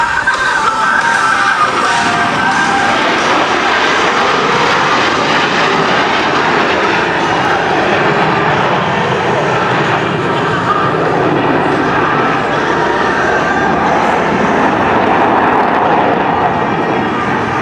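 Blue Angels Diamond formation jets roar loudly and continuously overhead at an airshow, a dense, steady jet engine blast filling the whole stretch with no pauses.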